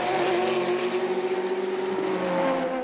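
Race cars scream past at full speed along the straight at Spa-Francorchamps during a four-hour endurance race, a loud sustained high-pitched engine note heard alone with no talk.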